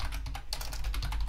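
Quick, light keystrokes click on a computer keyboard in a short, close burst as a terminal command is typed.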